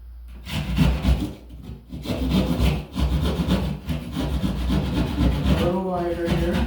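Hand saw cutting a box hole in a wall for an old-work electrical box, steady back-and-forth rasping strokes close up and continuous throughout.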